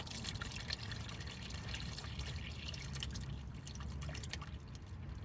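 Oil drips steadily from the engine of a 1974 Ford Pinto, a run of small wet drops over a low, constant background rumble.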